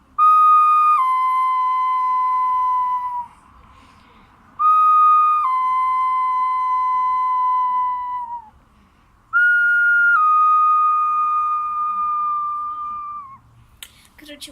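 Whistling on a toy pipe imitates a wolf howl, three long sustained tones each sliding slowly downward with pauses between, loud and close, with faint clicks at the end.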